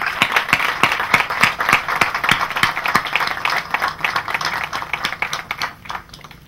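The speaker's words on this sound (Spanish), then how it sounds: "Vamos a darle un aplauso." A crowd applauds at an outdoor street naming ceremony, with distinct rhythmic claps from nearby hands over a general patter that thins and fades out toward the end.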